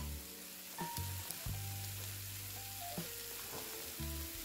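Potatoes fry in a pan for a crisp breakfast, giving a soft, steady sizzle with a few clicks and taps. Low humming tones run underneath, and there is no talking.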